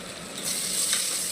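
Onions, ginger and garlic sizzle steadily in a hot pan for mutton biryani, a brief close, constant hiss of frying with no voices.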